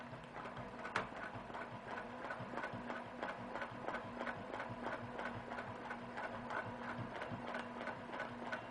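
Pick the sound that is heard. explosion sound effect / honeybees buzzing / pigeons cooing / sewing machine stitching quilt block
sewing machine stitching quilt block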